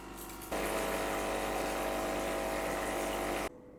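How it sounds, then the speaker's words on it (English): An Electactic CM5020B-UL commercial espresso machine running its descaling cycle, a steady loud pump hum with hot water gushing continuously for about three seconds, then cutting back to a lower idle drone. "Turn the knob to the steam setting and descaling will start."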